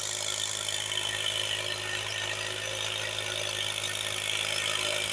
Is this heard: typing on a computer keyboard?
no